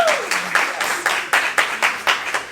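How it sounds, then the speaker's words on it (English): A crowd at a graduation celebration claps for the recent graduates, a steady, moderately loud patter of hands with rhythmic accents running throughout, no one speaking over it. "Let's give them all a huge round of applause."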